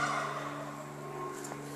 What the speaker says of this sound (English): Those are my Thanksgiving turkeys.